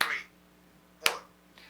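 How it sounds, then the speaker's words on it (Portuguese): Sharp finger snaps mark a steady tempo in a music coordination lesson: two or three crisp, close clicks about a second apart, with a brief breathy sound at the start. "Marcar o andamento com a mão."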